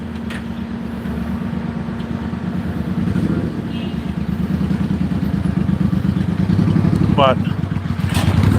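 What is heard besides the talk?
motorcycle on the sidewalk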